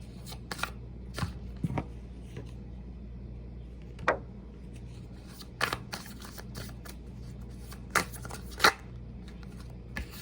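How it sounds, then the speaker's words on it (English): A deck of tarot cards is handled in a quiet room, with several separate short riffling and snapping bursts spread across about ten seconds, close and fairly soft, without talking. "let's go ahead and get a couple more tarot cards on this."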